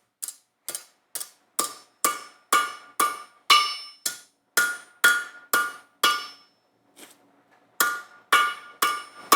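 A blacksmith hammers metal on the horn of an anvil while shaping a sword hilt, a steady series of sharp ringing metallic blows close up, with a brief pause before the strikes resume.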